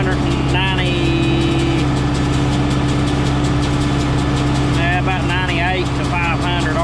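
A tractor engine runs steadily at around 2,000 RPM, driving the PTO for hay equipment on a field of thin hay, a constant low drone with a mechanical whine, while someone talks over it.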